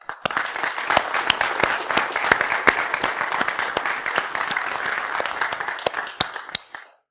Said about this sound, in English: can we give a round of applause for everybody that put NolaCon on?